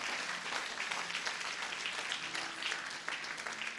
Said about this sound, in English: Come on, give the Lord a mighty clap of him.